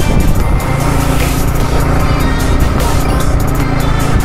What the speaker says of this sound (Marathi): आता हळूहळू आपली गाडी डोंगरावर चढती आहे